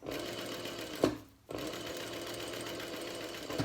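Steady rapid stitching of a sewing machine sewing a small wallet, close and fairly quiet, with a brief pause mid-way before it resumes.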